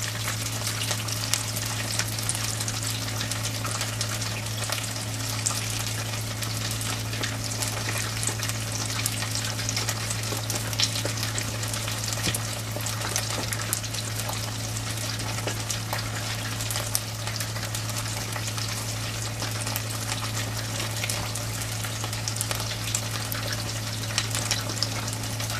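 Beer-battered catfish frying in a small deep fryer: steady, continuous crackling sizzle of hot oil with a low constant hum from the fryer, close and unbroken.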